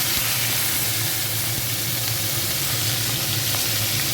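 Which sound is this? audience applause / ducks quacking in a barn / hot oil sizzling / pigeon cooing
hot oil sizzling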